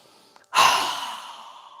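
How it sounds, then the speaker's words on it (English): One strong, breathy exhale through a wide-open mouth during a yoga breathing exercise, close and loud, rising suddenly and fading slowly after a faint inhale. "So inhale, strong exhale."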